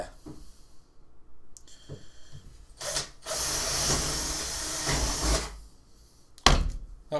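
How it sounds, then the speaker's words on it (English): A power drill bores a hole through a fridge wall into polystyrene insulation to feed a beer line, with a few short bursts giving way to a loud steady run of about two seconds, then a final sharp burst. "But first I need to drill through the fridge to feed the beer line in to the fridge."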